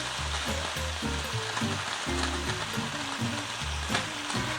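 Sliced mushrooms frying with bacon in a pot for a creamy garlic chicken dish, a steady close sizzle with bubbling and crackling spatters running throughout, no voices.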